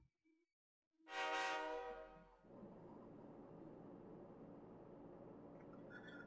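Passenger train in the game Persona 3 Portable: a loud burst of horn-like tones and rolling rail noise that fades, then a steady rumbling interior hum continues to the end.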